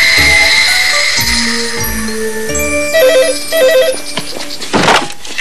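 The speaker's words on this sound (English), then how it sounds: "Scammer Jane, please pick up the phone" A cartoon telephone rings in a few melodic electronic tones mixed with background music, fairly loud and close, with no talking.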